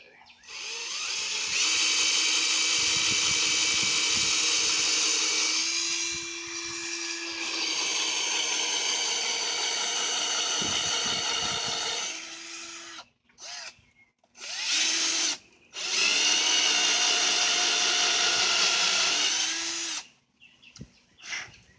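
A power drill with a half-inch bit whines loudly through a half-inch steel I-beam in long sustained runs, pausing briefly between bursts, with the pitch dipping under load.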